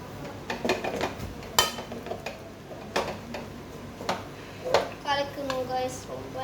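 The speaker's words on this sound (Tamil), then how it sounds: "நல்லா கலக்குங்க." A spoon scrapes and taps against a pan while a mixture is stirred, irregular sharp clinks scattered through the stretch, with someone speaking over them.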